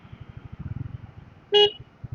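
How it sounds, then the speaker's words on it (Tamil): A single short car horn honk cuts through heavy morning road traffic, set against a steady rumble of engines and passing vehicles. "ரொம்ப மோசமான டிராஃபிக்காக இருக்குது சார்."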